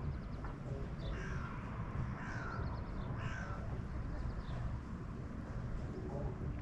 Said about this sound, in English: That crow has something to say about it. Let's hear the crow.